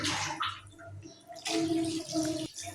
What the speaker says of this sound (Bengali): এবারে দিয়ে দেবো পরিমাণ মতো জল, আর একটুখানি দেবো